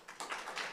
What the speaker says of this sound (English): We like applause.